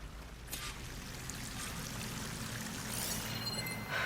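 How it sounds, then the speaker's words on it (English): A waterfall in a video game gives a soft, steady pouring rush at low level, swelling slightly toward the end over a faint low drone. "That waterfall must be coming from somewhere."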